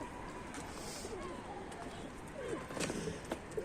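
Mardin pigeon in a coop, with soft cooing and faint bird calls against a quiet hiss of background noise, plus a few brief chirps and rustles near the end.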